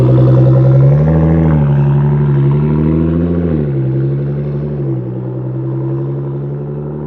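A Nissan GT-R fitted with a 4.5-inch titanium exhaust accelerates, a loud deep engine note rising through gears with pitch climbing and dropping at each shift, heard close and alone.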